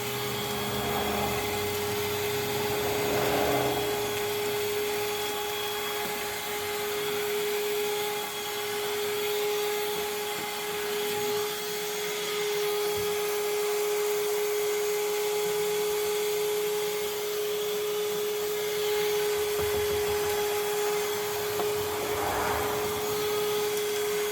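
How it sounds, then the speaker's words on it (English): A vacuum cleaner runs steadily inside an RV, cleaning along the edges, with a constant motor whine and airflow roar that continues unbroken, loud and close, with no talking. "these edges here and here really need to be vacuumed."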